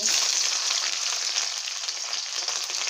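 Capsicum hits hot oil in a pan for chicken chilli, giving a loud, continuous hiss and crackle that stays close and even throughout with no talking.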